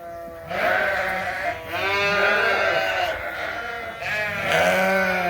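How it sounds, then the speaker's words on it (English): Weaned Suffolk lambs and ewes on a sheep farm at feeding time bleat loudly and continuously, several overlapping calls close by with barely a pause between them. "these are all the Suffolk weaned lambs"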